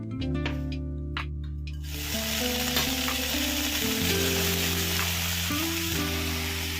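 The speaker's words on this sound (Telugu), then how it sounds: "అదే బాండీలో కొద్దిగా ఆయిల్ వేసేసి చింత చిగురు వేసుకుందామండి" Tender tamarind leaves sizzle and fry in a little oil in a pan, a steady close crackling hiss that continues throughout with faint stirring.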